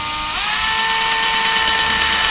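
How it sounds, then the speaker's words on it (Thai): A power drill fitted with an 18 mm diamond bit bores into floor tile, a loud steady high whine that shifts pitch slightly as it bites and then holds continuously. "อันนี้เราเจาะนะครับ"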